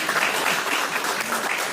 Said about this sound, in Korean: 다시 한번 뜨거운 격려의 박수 부탁드리겠습니다